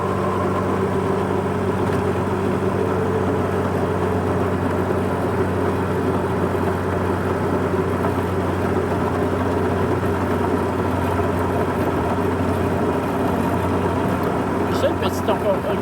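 A New Holland T1030 tractor with no cab runs a snow blower while clearing a snowy street, its engine giving a steady, close, continuous drone that does not let up.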